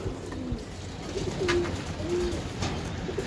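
Racing pigeons coo softly nearby in a few short, low, rolling calls over a quiet background hum.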